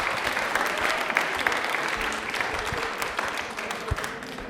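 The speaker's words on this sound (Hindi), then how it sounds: "तालियां हो जाए एक बार जोरदार।" A studio audience at a televised Rajasthani quiz show bursts into steady, dense applause after a correct answer, sustained clapping filling the whole moment with a faint voice or two beneath.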